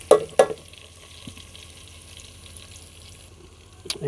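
Raw meat (gosht) going into hot oil over browned onions in a pot for aloo chicken, two sharp clattering stirs up front, then a quiet steady sizzle and a final scrape.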